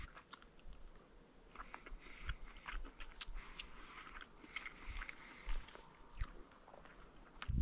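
Crispy fried fish skin crunched and chewed close to the mic outdoors, a faint irregular run of small bites and crackles with no talking.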